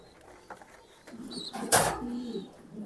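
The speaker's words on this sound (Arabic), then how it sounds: "ده حمام برضو سيلفر وارد الكويت اهو." Pigeons, brown silver-type birds imported from Kuwait, coo softly at close range in a few low murmuring phrases, with a brief louder rustle or flutter in the middle.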